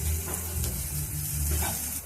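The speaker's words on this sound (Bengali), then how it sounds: "পেঁয়াজটা আরেকটু লাল করে ভাজবো।" Onions fry in a pan over a lowered gas flame while being browned for a banana-flower and prawn curry, giving a continuous close sizzle with a few soft stirring scrapes.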